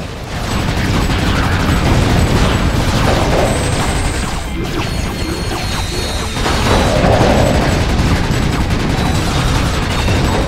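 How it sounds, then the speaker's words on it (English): Loud, continuous explosions and crashing blasts fill the action of the video game Ratchet: Deadlocked, with rapid bursts like gunfire layered over a dense, unbroken roar for the whole stretch. "I think explosions are pretty."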